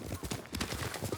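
Horse hooves clop in a quick, steady galloping rhythm during a ride in Ghost of Tsushima, close and fairly faint, with no voices over them.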